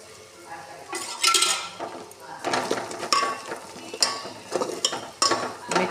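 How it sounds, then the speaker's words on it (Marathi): Masala with turmeric and a little oil is mixed in a pot, giving intermittent scraping and clattering strokes of a spoon against the metal with short sizzling bursts between pauses. "मिक्स करून घेऊया मसाला।"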